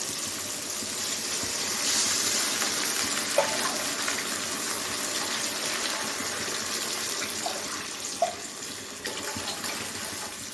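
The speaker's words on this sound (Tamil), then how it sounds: "இப்போ வந்து ரவை தண்ணி ஊற்றிக்கலாம்" Water runs and pours into a pan while making semolina (rava) tomato kichadi, a steady gushing stream at moderate level with a few light clinks.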